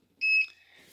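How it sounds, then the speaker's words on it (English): A single short electronic beep, a clear high tone lasting about a quarter second, followed by quiet background hiss, from automotive fuel injector testing equipment. "Let me shut this beeping off."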